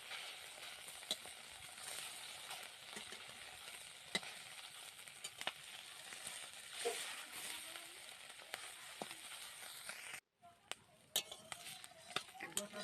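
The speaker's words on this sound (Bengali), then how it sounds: "লবণ হলুদ মাখিয়ে গরম তেলে এপাশ ওপাশ লাল লাল করে পরপর করে ভেজে নেব।" Small puti fish coated in salt and turmeric frying in hot oil, giving a steady close sizzle with occasional utensil clinks and a brief drop-out near the end.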